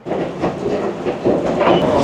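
A Hong Kong subway train rumbles steadily with clickety-clack wheel noise, close and loud throughout, with brief metallic squeals toward the end.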